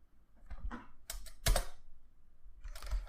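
A few short bursts of keystrokes on a computer keyboard while entering a wget command in a terminal, quiet and close, with small pauses between clusters.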